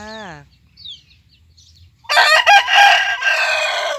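Near silence, then a rooster crows loudly and close by, one long raspy crow that fills the last couple of seconds.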